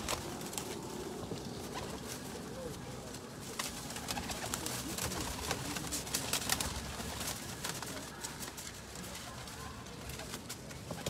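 Teddy pigeons held for sale coo and shuffle close by, with scattered pattering, scratching and wing rustles over a busy background, while a voice murmurs faintly.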